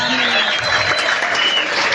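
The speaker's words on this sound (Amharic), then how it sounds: "ከዚህም በላይ እጅግ በጣም ብዙ ጭብጨባ፣ ብዙ እልልታና ጩኸት እና ፉጨት ለኢየሱስ ይብዛለት።" Church congregation clapping loudly and steadily at close range in a dense burst of applause, with a bright, shrill layer above it that fits ululation.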